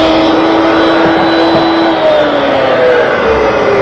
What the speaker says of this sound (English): I'll form it at the router table